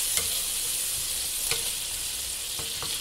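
Mushrooms and asparagus fry in a pan with a steady bright sizzle, broken by a few soft scrapes as they are stirred, fairly close and quiet, with no voices.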